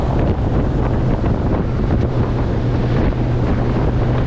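Hewescraft 180 Sportsman aluminum boat planing across an open bay, steady loud engine drone with heavy wind rush and water slap, continuous and close with no talk.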